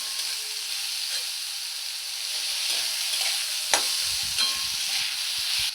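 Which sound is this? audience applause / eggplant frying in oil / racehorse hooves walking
eggplant frying in oil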